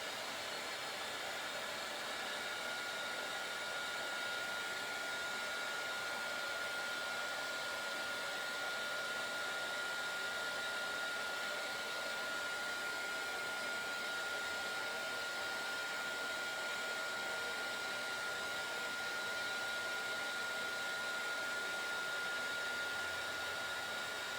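A heat tool blows steadily while drying a craft card, a constant loud whooshing hum with a thin high whine that holds unchanged throughout.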